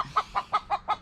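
A chicken clucks nearby in a workshop setting, five evenly spaced, clear clucks in a quick rhythm with nothing else heard.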